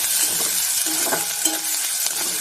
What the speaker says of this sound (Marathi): कांदा किंचित गुलाबी होऊ द्या